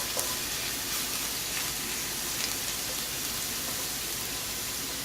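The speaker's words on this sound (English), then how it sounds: "Depending on how hot your pan is, that's how fast your garlic is going to start burning." Garlic sizzles in a hot pan, a steady, close frying hiss that continues evenly throughout with no talking.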